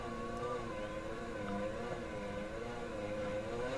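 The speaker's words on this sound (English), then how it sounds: "letting go a little bit loses a lot of revs really fast. That is the engine braking." A rally car engine in Assetto Corsa Rally gives a steady drone with layered harmonic tones that dip slightly as revs drop off under engine braking, continuous throughout with no voices.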